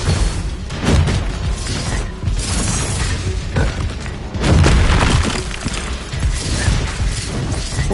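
Booming spell blasts from the Hogwarts Legacy video game, several loud bursts with crackling, shattering debris spread across a dense, continuous game soundscape, with no talking.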